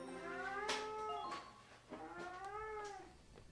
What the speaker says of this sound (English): Bud, why are you meowing?